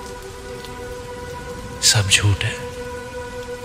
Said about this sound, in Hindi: आज भी बारिश हो रही है